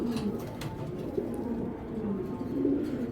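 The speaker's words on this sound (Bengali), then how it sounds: "জাস্ট কবুতরটা আপনাদের দেখাই" A racing pigeon coos softly and repeatedly, low rolling calls close by with a light hum of background noise.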